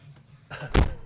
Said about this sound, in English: I'm going to have to close the door.